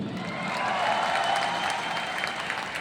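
Audience applause at a meeting: a steady, dense wash of clapping from many hands that holds at an even level for about three seconds, swelling slightly in the middle.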